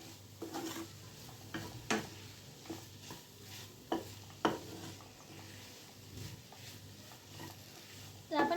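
A spoon scrapes and stirs a dry ivy gourd (tondli) stir-fry in a pan over low to medium flame, making soft repeated scraping strokes with a faint sizzle underneath, fairly quiet and close, with someone speaking briefly.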